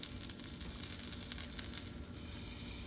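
Butter melts and sizzles in a pan before mushrooms are cooked, a steady close crackling fry that holds evenly throughout, with no voices.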